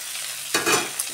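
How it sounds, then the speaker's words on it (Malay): Garlic, shallots and bird's eye chilies frying in a pan for sambal belacan, a quiet hiss that swells suddenly into a brief burst of sizzling and stirring, close by. "Kita gorenglah sekali sehingga semuanya layu ya."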